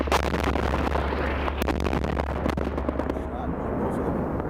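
A 2,000-pound JDAM bomb dropped by an F-16 on a target building sends out a continuous loud, rumbling blast-like roar with sharp cracks and pops throughout, sustained heavily for several seconds.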